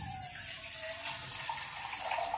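Water runs from a tap into a pot for tea, giving a steady close rushing stream that holds level for a couple of seconds, with no talking.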